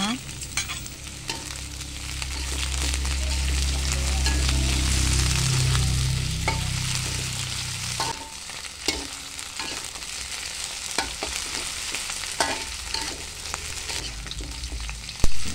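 Shallots, garlic and spices fry in hot oil with a dense, constant sizzle, while occasional stirring knocks and scrapes of a utensil against the pan come through; no one speaks.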